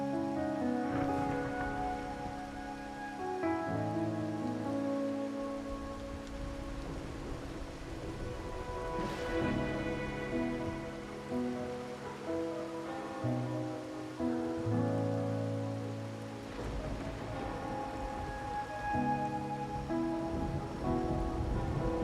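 Steady rain falls throughout a rainy night scene in the Wuthering Waves video game, with soft musical tones layered over the constant hiss.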